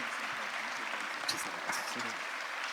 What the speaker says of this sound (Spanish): Un aplauso al Padre Ricardo.